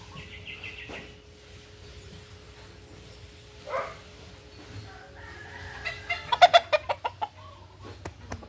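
Roosters cluck and crow across a farmyard, scattered calls building to a loud, rapid series of close squawks near the end.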